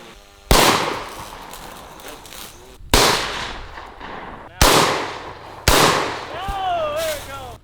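Heavy explosive charges blow up DJI drones set out as targets, giving four loud, sharp blasts that each roll off into a long rumbling tail. A whistling tone follows the last blast.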